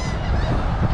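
Birds at a beach in Texas give loud, honking calls close by, a brief continuous goose-like squawking with no talk.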